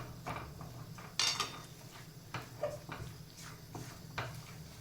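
Flour being stirred into melted ghee in a pan while making sukhdi, with intermittent scraping and metallic clanks of a spoon against the pan, close by and irregular, and no one speaking.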